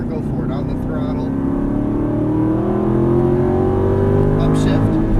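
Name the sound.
Aston Martin V8 Vantage engine accelerating on race track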